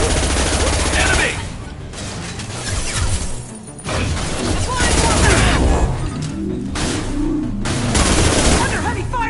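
Dense, loud gunfire in the video game Mass Effect 2: sustained automatic bursts and heavy shots overlap almost continuously, with brief lulls and combat voices calling out amid the fire.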